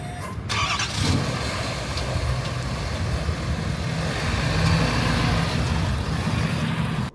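A 2022 Ford F450 King Ranch diesel truck rolls up to a fuel pump, its engine running as a steady, fairly loud rumble close by, with a brief start-up surge near the beginning and no talking.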